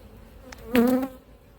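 Honey bees at an opened hive, late season, give a short, close buzzing swell that rises suddenly and fades within a fraction of a second against quiet surroundings.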